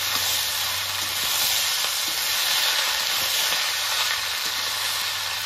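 Ash gourd stir-fried with chillies and fried mung dal in a pan gives a loud, dense, continuous sizzle with a faint hiss, steady from start to finish and heard close up.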